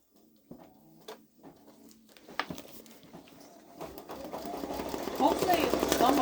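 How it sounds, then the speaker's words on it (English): A Babylock Solaris Vision embroidery machine stitches out hair in a design, its needle patter starting sparse and faint, then building into a steady, louder whirring run over the last seconds. "Okay, so it's going to stitch out the hair."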